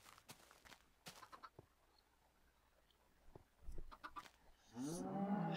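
Cattle in the Minecraft modpack Feed the Beast moo in a few low, drawn-out calls, with a louder, closer moo near the end among soft scattered game sounds and footstep-like taps.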